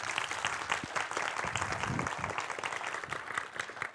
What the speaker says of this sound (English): Huge round of applause for Artur.